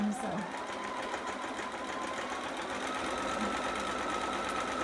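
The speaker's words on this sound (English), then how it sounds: "I'm gonna go ahead and just do a little bit more than a quarter back stitch" Sewing machine back stitching the end of a seam on a long john baby sitter garment, a steady continuous whir running throughout at close range, with a voice talking faintly underneath.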